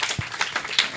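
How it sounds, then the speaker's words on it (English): An audience gives a short round of applause at Universal Acceptance Day 2026, with scattered, fairly close claps over a brief moment. "I think we didn't give Emmanuel enough round of applause."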